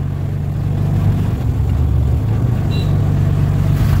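An auto-rickshaw runs along a road with a steady, loud, close engine drone and rumbling road noise that never lets up, and no one speaks.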